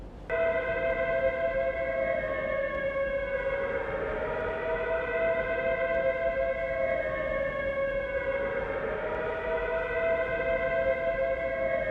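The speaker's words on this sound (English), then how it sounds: "as soon as we hear those air raid sirens" A loud air raid siren in the video game Prisoner of War wails continuously, its pitch sliding down and rising again in a slow sweeping cycle.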